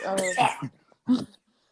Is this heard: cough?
yes